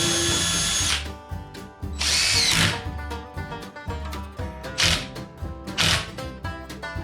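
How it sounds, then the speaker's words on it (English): A power drill pre-drills screw holes into a wooden door frame in four separate bursts of high whining spin, each about a second or less, separated by pauses with a musical backing underneath. "I'm going to go ahead and pre-drill these holes so I can get the screws in more easily."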